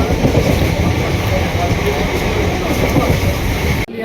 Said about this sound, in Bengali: এখন আছি লোকাল ট্রেনে,